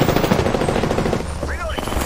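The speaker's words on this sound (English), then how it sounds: "Listen up, I'm getting shot at." Rapid automatic gunfire in the video game Apex Legends rattles in dense bursts through most of the clip, loud and close, with a voice talking over it and a brief electronic chirp near the end.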